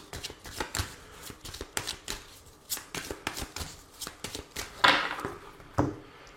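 Oracle cards are shuffled by hand, a close, brisk series of riffling slaps and flicks in an uneven rhythm, with a couple of sharper snaps near the end and no talking.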